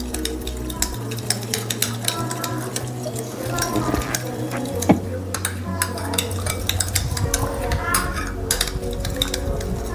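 A spoon mixes curd dressing with lemon and chilli flakes in a bowl, giving rapid, continuous clinking and scraping against the sides, with a voice faintly underneath.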